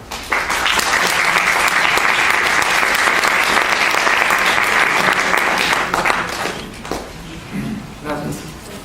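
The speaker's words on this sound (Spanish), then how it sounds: "le damos un aplauso al maestro" Audience at a lecture on the 1917 Russian Revolution gives the lecturer loud, dense applause lasting about six seconds, then it dies away into a few thumps and murmurs.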